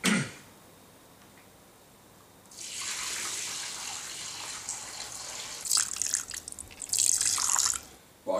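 Water pours steadily into a paint bucket with a broad splashing rush, shifting in tone as it fills, with a few brief clatters near the end.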